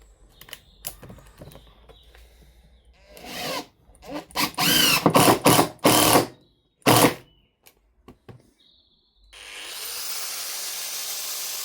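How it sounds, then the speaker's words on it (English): An impact driver drives a screw into a block of wood in several loud, rattling bursts with short pauses between them, preceded by quiet handling clicks and followed by a steady background hiss. "Block of wood, screw, impact driver. Screw it in there"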